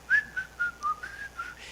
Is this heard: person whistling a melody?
yes